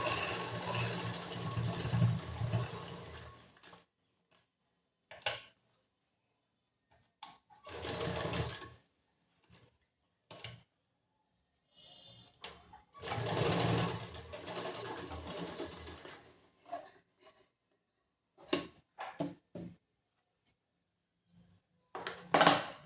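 A sewing machine stitches the front part of a cross-cut blouse, running in repeated short bursts separated by pauses as the fabric is turned, each run loud and close.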